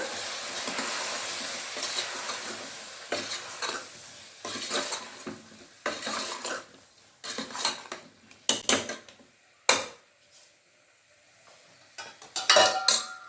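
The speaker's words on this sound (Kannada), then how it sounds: "ರುಚಿಗೆ ತಕ್ಕಷ್ಟು ಉಪ್ಪು ಇಷ್ಟು ಹಾಕಿ ಮಿಕ್ಸ್ ಮಾಡಿಬಿಡೋಣ" A spoon stirs salt into a cowpea masala curry in a metal pot, giving intermittent scrapes and clinks in short bursts with quiet gaps between them and a faint simmer beneath.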